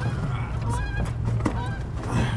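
Waterfowl call at a lake, heard as several quick honking squawks over a constant low hum and background wash. A voice is faintly present beneath.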